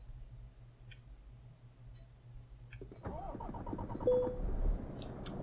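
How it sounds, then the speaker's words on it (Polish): A DAF XF105 truck engine in Euro Truck Simulator 2 cranks and catches about three seconds in, settling into a rough diesel idle after a quiet stretch with a low hum. "więc teraz odpalę sobie swojego dafa"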